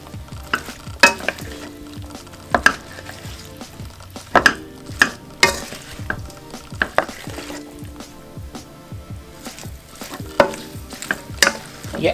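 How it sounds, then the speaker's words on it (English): Chicken and broccoli sauté in a pan with a soft sizzle, broken by frequent sharp scrapes and clinks of a utensil against the pan, close and fairly loud, with no talking. "So you're going to saute that in here."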